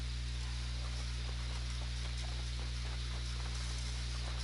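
Horse hooves clip-clop in the video game Red Dead Online, a quick irregular patter of footfalls under a loud, constant low hum.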